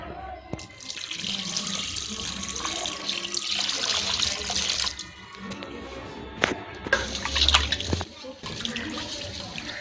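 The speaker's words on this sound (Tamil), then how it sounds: "இந்த கொஞ்சம் தண்ணி ஊற்றிக்கலாம்" Water poured while preparing fried fish gives a continuous close running, splashing flow over about ten seconds, with a few brief knocks and clinks along the way.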